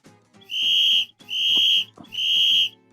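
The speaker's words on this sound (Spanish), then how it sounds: "Pongamos el ejemplo de un silbato. Normalmente se escucha así." Three shrill whistle blasts, each about half a second long, sound loud and close with short pauses between them.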